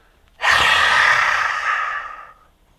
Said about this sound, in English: exhale for a lion's breath or a cleansing breath